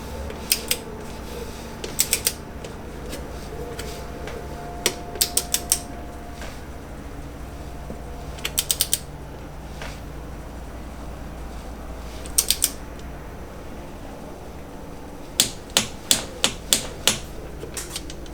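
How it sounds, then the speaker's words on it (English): A torque wrench clicks repeatedly as bolts on a Porsche Cayenne diesel transmission are tightened, sharp ratcheting snaps arriving in short bursts over a faint steady background hum. "Instead, I'm going to torque them to 15 Newton meters and just see how they feel as I go."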